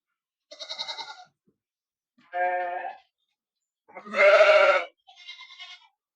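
Four separate bleats of a sheep on a goat and sheep farm, clear and close, spaced apart with quiet gaps between them; the third call is the loudest.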